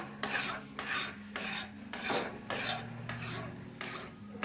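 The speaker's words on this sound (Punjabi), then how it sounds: "ਉਸ ਤੋਂ ਬਾਅਦ ਵੀ ਆਪਾਂ 5-7 ਮਿੰਟ ਇਹਨੂੰ ਹਿਲਾ ਕੇ ਪਕਾਵਾਂਗੇ" A utensil scrapes and stirs karah prashad in a metal pan in regular strokes, about eight rhythmic scraping clinks, close and clear with no talking.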